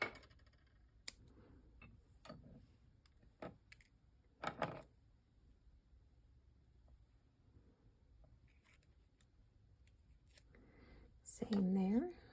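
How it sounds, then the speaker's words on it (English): Paper being cut with scissors while making a birthday card with balloons: a handful of quiet, crisp snips spaced a second or so apart in a hushed room, with a brief louder rustle at the end. "let's cut that a little"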